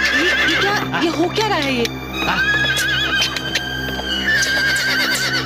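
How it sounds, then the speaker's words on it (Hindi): A horse that refuses to move forward whinnies loudly and repeatedly with hoof clip-clops, in a dramatic Hindi TV serial scene; someone speaks briefly over a steady background hum. "पता नहीं, घोड़ा आगे बढ़ता ही नहीं।"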